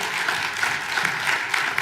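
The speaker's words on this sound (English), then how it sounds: "Folks, can we give him a round of applause?" A brief burst of crowd applause greets an award winner at a water awards event, a dense patter of many hands clapping at once.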